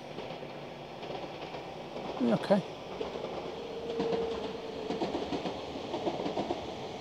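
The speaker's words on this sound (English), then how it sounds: "There's the train." A small two-coach regular passenger train rolls past outdoors with a steady rumble and faint wheel clatter, heard at moderate distance under a brief spoken word.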